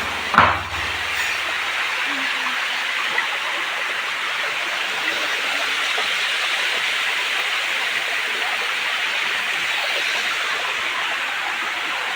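A village waterfall where people fill ritual kalash pots for a Lakshmi puja pours in a constant, even rush of broadband water noise, close and steady after a brief knock at the start.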